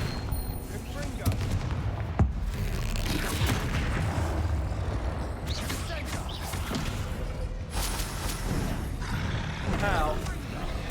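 Confringo blasting spells burst repeatedly in a spell-casting fight against spiders, with loud, cracking explosions scattered over a constant din of combat noise.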